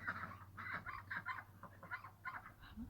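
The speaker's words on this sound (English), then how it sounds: "Now that the ducks have ventured down, they're not staying up there anymore." A flock of ducks in a bird house enclosure gives repeated honking quacks in quick, uneven bursts that carry on throughout. The calls are close, fairly loud and overlap one another, with no talking.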